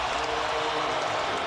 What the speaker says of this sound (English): The crowd needed something to cheer about.